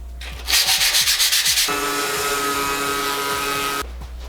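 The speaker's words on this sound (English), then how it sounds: "take some sandpaper, we're going to sand it down" Close-up sandpaper scrubbing against a rusty steel rail, first in quick rhythmic back-and-forth strokes, then a longer continuous rasping rub before stopping.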